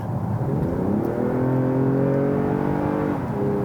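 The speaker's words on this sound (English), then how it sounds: "You just mostly hear an induction howl that's synthesized" A steady engine drone with rising harmonic tones, a synthesized V6 induction howl building as a 2019 Toyota Avalon sedan accelerates, heard from inside the cabin with no talking.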